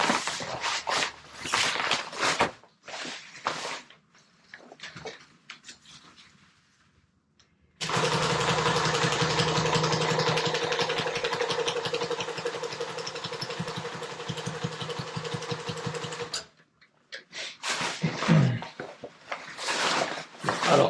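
Sewing machine stitching the hem of a jib sail for a small sailboat, a steady close whirring run of about nine seconds between shorter start-stop bursts of stitching.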